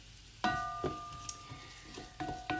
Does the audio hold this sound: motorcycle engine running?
no